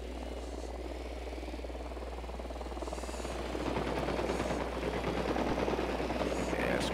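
An enemy Unidad helicopter in the video game Ghost Recon Wildlands thrums with a steady rotor chop that grows louder partway through, under a constant low hum and faint game effects.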